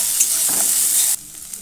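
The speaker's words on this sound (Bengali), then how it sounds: "এরপর দিয়ে দিচ্ছি বেগুন, কাঁচা লঙ্কা আর পেঁয়াজ। সবগুলোকে ভালো করে ভেজে নেব।" Eggplant, green chilli and onion frying in a pan give a steady, loud sizzle with stirring, which drops sharply quieter for the final half second; no voices.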